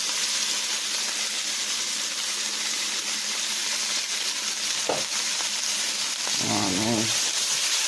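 Onions sizzling in a hot pan: a loud, steady hiss of frying fills the whole stretch up close, while someone speaks briefly over it near the end.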